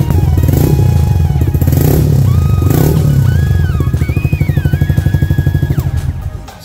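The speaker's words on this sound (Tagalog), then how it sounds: "pakinggan natin yung sounds ng Tambucho." Exhaust of a custom Yamaha PG-1 motorcycle, a muffled, fairly quiet note loud and close, revving up and settling back to a steady, thumping idle pulse as it fades.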